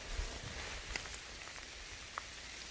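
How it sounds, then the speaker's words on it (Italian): Rain starts falling on thick leaf litter in a forest, a faint steady patter of drops with a few sharper individual taps, heard quietly with no voices. "Sentite, sentite come sta iniziando a piovere."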